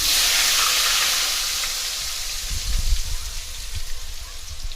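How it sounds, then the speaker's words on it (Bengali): Small chopped potatoes fry in the hot oil left from frying fish, ready for a muri ghonto. A steady, bright sizzle hisses throughout, with a few low bumps and stirs toward the end. "আলুগুলোকে ভেজে নেব।"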